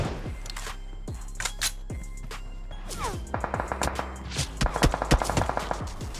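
Gunfire from the mobile battle-royale game PUBG Mobile, in a solo match where M416 and AWM rifles are in use: sharp shots crack one after another, some single and some in quick clusters, over a low steady game hum.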